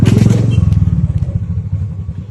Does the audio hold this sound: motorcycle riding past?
yes